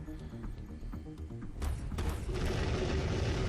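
Tank attack in the strategy game Endless Space 2: a faint rhythmic rumble gives way to a burst of heavy booming explosions that swell into a loud, sustained roar of battle.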